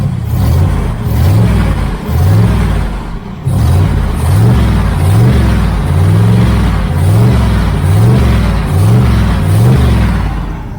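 A 1980 Camaro Z28 V8 fitted with a knock-off Holley four-barrel carburetor idles loud and close, its steady rumble lifting in a regular rhythm of repeated blips, with a brief dip partway through.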